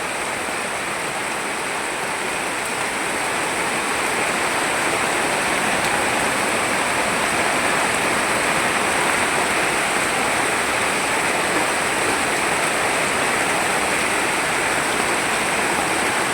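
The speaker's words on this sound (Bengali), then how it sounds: "চালের জলটাকে আমি ভালোভাবে ঝরিয়ে নিলাম।" Water draining from soaked Gobindobhog rice in a strainer; a loud, continuous rushing and splashing of water close by holds steady throughout without a break, with no talking.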